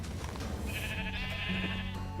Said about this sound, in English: I couldn't bring myself to kill all these sheep and cows.